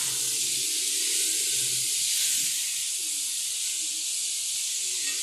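Tomatoes and green chillies for keema sizzle steadily in a hot pan, a loud continuous hiss that holds level throughout with no talk.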